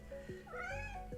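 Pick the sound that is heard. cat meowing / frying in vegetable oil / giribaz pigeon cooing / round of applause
cat meowing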